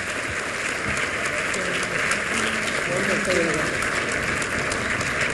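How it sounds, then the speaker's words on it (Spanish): Audience applause at a public forum, dense steady clapping from a crowd filling the room, with a voice speaking over it. "le pido un aplauso"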